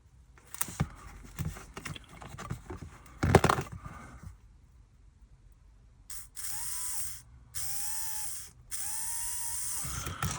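A Hornby Tri-ang Stephenson's Rocket model locomotive under repair: scattered clicks and handling rattles, then its small electric motor whirs in three short, steady bursts with a wavering whine, close and fairly quiet.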